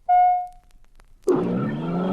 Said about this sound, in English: Gadget suddenly transforms the van he is driving into a speedy car.